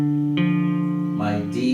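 A guitar plays a major third, C then E, two plucked notes ringing clearly one after the other, with the second note joining near the end.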